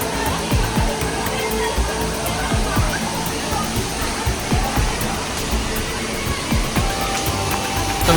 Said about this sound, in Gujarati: અત્યારે પાણી ચાલુ છે ફૂલ